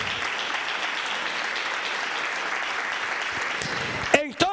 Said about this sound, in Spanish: Aleluya, dele palmas al Señor.